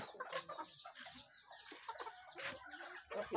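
Pet chickens cluck repeatedly and close by while being fed, with short bursts of clucking and scratching sounds from a small backyard flock in irregular succession.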